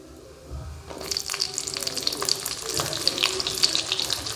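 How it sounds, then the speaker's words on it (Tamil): Urad dal fries in hot oil for a mint and onion chutney, the pan bursting into a bright, crackling sizzle after a brief quiet start and then staying steady and close. "நல்லா உளுத்தம் பருப்பு பொரியுது"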